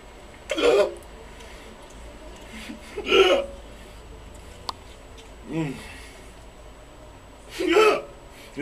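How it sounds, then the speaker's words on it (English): Several short, sharp vocal hiccup-like bursts, spaced a couple of seconds apart, over a steady low background. "That's just a hiccup."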